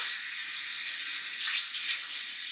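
Hot water pours from a tap into a measuring cup in a home kitchen, a steady bright rushing stream lasting a couple of seconds with slight surges, close and with no talking.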